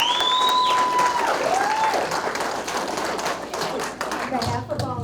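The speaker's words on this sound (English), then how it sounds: "And I think he deserves a huge round of applause." Steady audience applause for a veteran at an American Legion Veterans Day ceremony, a sustained wash of clapping from a room of people with some speech-like sounds mixed in.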